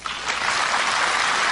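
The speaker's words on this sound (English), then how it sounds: "The FBI graduates are applauding us." FBI Academy graduates applaud, a dense, steady crowd clapping that swells in the first moments and then holds at an even level, fairly loud, with no voices over it.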